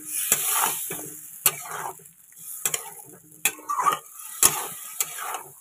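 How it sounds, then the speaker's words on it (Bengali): Water poured into a pan of sizzling, sautéed spice masala sets off a burst of hissing and sputtering that rises and fades in uneven waves, with sharp clicks and scrapes of a utensil against the pan, close by and alone. "এবারে পরিমাণ মতো অল্প করে জল দেব।"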